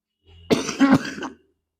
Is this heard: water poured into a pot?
no